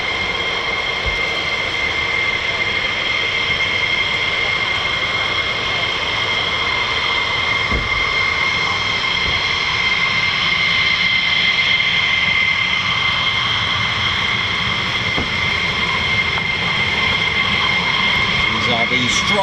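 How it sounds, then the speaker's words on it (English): F-15E Strike Eagle jets taking off at RAF Lakenheath, a loud, steady engine roar with strong tonal whine that holds throughout, with voices talking over it. "Strike Eagles, that's F-15E."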